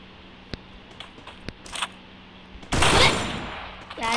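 Free Fire gunfire landing headshots: a few faint single clicks and pops, then one loud, close burst of rapid shots that rings out and fades.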